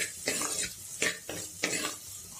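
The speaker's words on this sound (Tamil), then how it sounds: "நல்லா வதக்கிக்கோங்க." Tomato and aloe vera being sautéed in a pan for a kara kulambu, with a spoon scraping and stirring in three or four quick strokes over a soft sizzle, heard close up with no talk.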